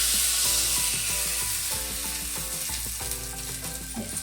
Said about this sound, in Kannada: ಒಂದು ಒಣಮೆಣಸು ಹಾಕ್ಬಿಟ್ಟು ಈ ಥರ ಒಗ್ಗರಣೆ ಮಾಡಿಬಿಟ್ಟು ಚೆನ್ನಾಗಿ ಫ್ರೈ ಆಗುತ್ತೆ